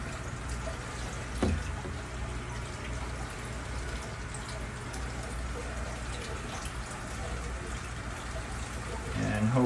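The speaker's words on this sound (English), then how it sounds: "use this to suck the water in." Water trickles and gurgles as it is drawn through a hose into a tank on an organic squash setup, a steady, moderately loud liquid wash with occasional splashy bursts, and someone talks over it at points.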